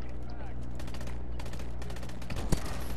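Sniper rifle shots in the video game Call of Duty: Advanced Warfare multiplayer, a sharp loud crack near the end over a constant dense bed of game noise and effects.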